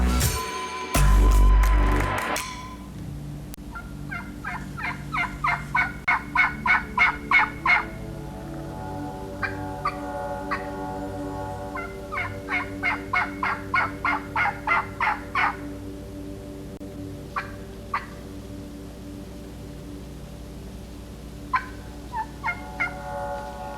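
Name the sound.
wild turkeys gobbling in eastern Missouri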